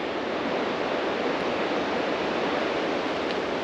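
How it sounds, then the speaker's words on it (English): A river rushing beside a hiking trail through birch and spruce forest in Gros Morne, Newfoundland, Canada, giving a steady, loud, broadband roar of churning water that continues unbroken throughout, with no voices. "can you guys hear that river?"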